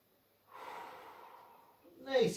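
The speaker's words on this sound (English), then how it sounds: "Nice easy breathing, everyone." A long, steady exhale during an easy morning stretching routine rises softly, holds for over a second, then ends in a short, sharper breath or snort.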